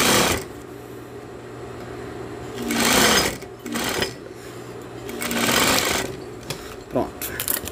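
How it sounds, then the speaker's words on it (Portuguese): A sewing machine stitching a hem with pinned fabric, its motor whirring in a few short surges of steady stitching between quieter handling noise, close and fairly loud, with a person talking over it. "cuidado para não costurar o alfinete e quebrar a sua agulha"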